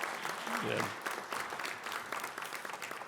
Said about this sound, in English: Why don't we just give a round of applause to the entire panel here for their opening statements?